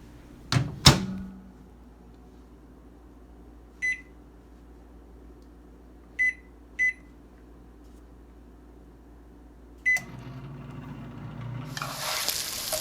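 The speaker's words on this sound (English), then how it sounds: "I'm going to put that in the microwave for 2 minutes" Door clunks, then a few short beeps as a microwave oven is set to heat food; a low hum runs quietly, ending with a rising hiss near the close.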